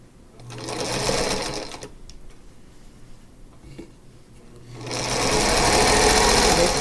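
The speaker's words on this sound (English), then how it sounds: "So let's sew this one." A sewing machine chain-piecing string-pieced quilt block strips for an Arkansas Crossroads sampler block runs in two loud, steady bursts, with a quieter pause of handling noise between them.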